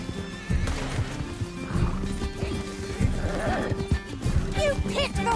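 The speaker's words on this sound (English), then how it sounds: "Can't this horse go any faster?" A horse in the Red Dead Redemption 2 video game gallops with rapid clip-clop hoofbeats and lets out whinnying neighs, while people talk over the ride.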